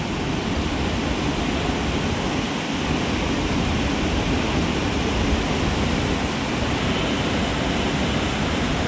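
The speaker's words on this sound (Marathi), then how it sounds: "म्हणजे ब्रह्मगिरीचे जेवढे 7 जे धबधबे ते चालू झाले, त्या हिशोबाने इकडं महापूर येत असतो" Rushing floodwater from the Brahmagiri waterfalls at Trimbakeshwar roars as a dense, steady broadband wash, loud and unbroken throughout with no voices.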